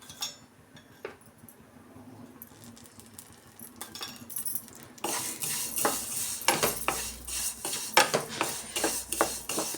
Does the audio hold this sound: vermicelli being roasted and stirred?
yes